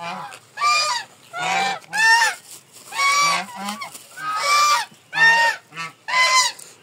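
A domestic goose honks repeatedly and loudly close by, a series of about eight harsh nasal calls in an uneven rhythm with short pauses between them.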